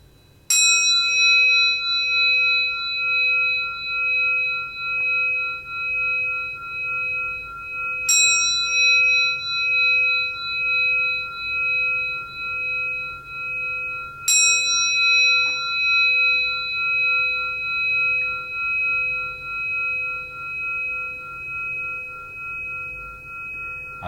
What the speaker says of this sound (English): So we're going to use a ring gong and see how this makes you feel.